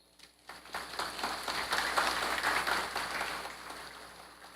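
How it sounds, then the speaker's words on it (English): An audience applauds police officers' families at a Guyana Police Force Christmas award ceremony, with a burst of dense clapping that swells, holds for several seconds, then gradually thins out. "And of course, we should give them a round of applause."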